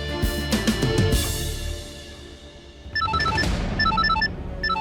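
A telephone rings with a repeating electronic trill pattern in the second half, clear and fairly loud, after a busy stretch of mixed music and background sound.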